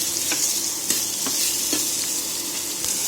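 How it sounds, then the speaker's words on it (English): Ridge gourd seasoned with salt and turmeric fries in a pan over a low flame, giving a steady close sizzle broken by a few sharp scrapes and stirs, with no talking. "We will fry our ridge gourd on slow flame so that it becomes soft."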